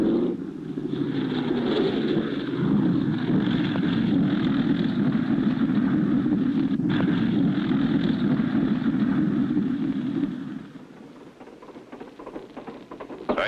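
A small airplane taxis across the water toward a northwoods camp, its engine a steady, loud droning hum for about ten seconds before dropping to a quieter rumble.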